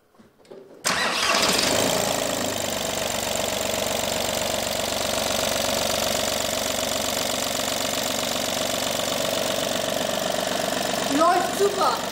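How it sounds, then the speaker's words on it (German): Audi/VW/Skoda/Seat TDI diesel engine (1.4 or 1.9 litre) after a timing belt change and coolant refill: brief cranking, then it fires up and settles into a loud, steady idle with a clattery diesel rattle, and a voice briefly heard near the end. "Kühlflüssigkeit ist aufgefüllt, starten wir mal den Motor"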